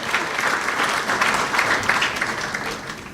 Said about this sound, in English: Could we give the cabinet colleagues, all of them, a round of applause for their support?